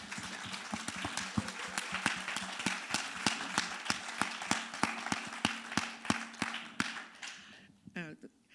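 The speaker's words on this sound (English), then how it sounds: "That deserves a big applause, for sure." A panel audience at an NCLR leaders event applauding, with many distinct claps in a quick, fairly even patter that carries on for several seconds and then stops abruptly, followed by a brief voice.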